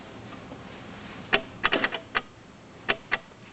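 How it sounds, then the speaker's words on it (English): A series of sharp mechanical clicks from a car headlight's high beam shutter, some single and some in quick clusters, close up against a faint steady background hum. "So that's the high beam shutter activating right now."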